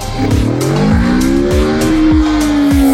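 A BMW K1600 motorcycle engine revving up and down in loud, continuous bursts as the throttle is worked during wheelie practice, with rising and falling pitch sweeps and a few sharp transients over the steady roar.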